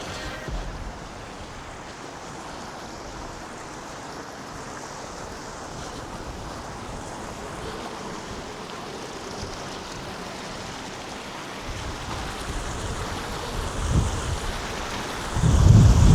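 River flowing along a walking path near Turner Falls in the Arbuckle Mountains, a steady broad wash of water with wind buffeting the microphone, moderately loud, ending in louder gusts and footsteps-like thumps.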